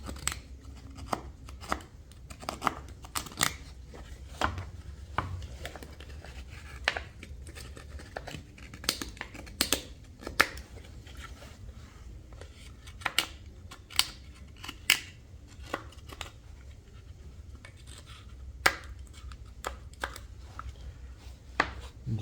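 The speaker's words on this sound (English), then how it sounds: "if you take and just kind of trim around the edge to get rid of that lip" A knife trims the plastic lip off a Briggs & Stratton replacement carburetor part, giving irregular sharp cutting clicks and scrapes, close and fairly faint, over a low steady background hum.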